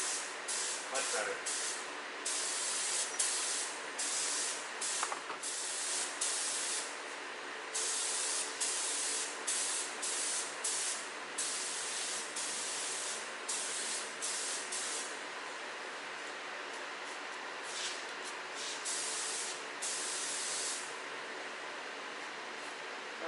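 A spray gun hisses in repeated bursts as a first coat of paint goes onto a truck body, the long pressurized blasts starting and stopping in an irregular rhythm, close and steady.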